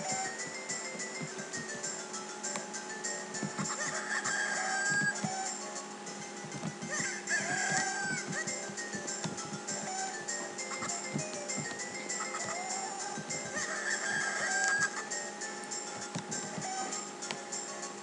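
Cuckoo chickens cluck through game audio in The Legend of Zelda: The Minish Cap, with short chirpy clucks recurring across steady chiptune-style background music at moderate volume.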